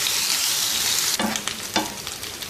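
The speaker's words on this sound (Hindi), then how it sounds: "ये देखें अनियन जो है वो लाइट गोल्डन फ्राई हो गया है" Sliced onion with ginger garlic paste sizzles steadily in a hot pan for a daal fry, a close, loud crackling hiss joined by clinks and scrapes of stirring partway through.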